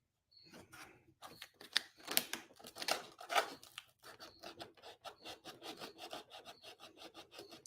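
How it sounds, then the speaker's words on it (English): Sandpaper rubs against a spinning part of a radio-controlled model jet, a close, rapid series of rasping strokes that starts after a brief pause and keeps a steady scratchy rhythm. "I'll battery up and spin it and get the sandpaper on it like that"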